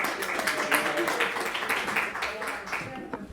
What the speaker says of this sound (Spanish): os pido un pequeño aplauso para él